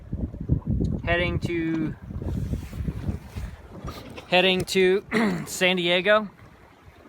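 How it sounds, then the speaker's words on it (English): Sailboat SV Coconut gliding in very light wind off the Southern California coast, with soft wind and water wash running low beneath a woman's steady, close talking throughout. "right now we're sailing off the coast of Southern California in very light wind"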